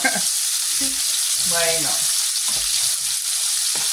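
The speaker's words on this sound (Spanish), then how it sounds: "Las patatas, las veis, también se están friendo." Potatoes frying in a pan of oil for a Spanish-style stewed chicken, giving a steady broadband sizzle throughout, with a few short spoken words and some light stirring clinks.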